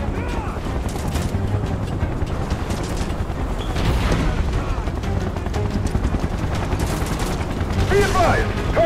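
Dense, sustained gunfire and bursts of automatic fire in Final Fantasy 7 Remake, with booming impacts layered over game music and effects, continuous and loud throughout with a swell of explosions midway.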